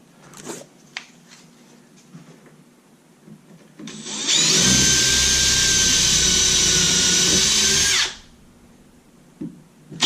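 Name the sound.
power drill drilling into cabinet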